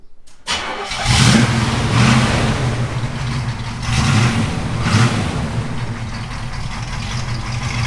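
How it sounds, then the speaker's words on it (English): A numbers-matching black and gold Pontiac Trans Am Bandit's engine cranks and fires, then settles into a loud, lumpy idle with a few throaty revs rising and falling close by. "people love to hear what it sounds like when you just start it."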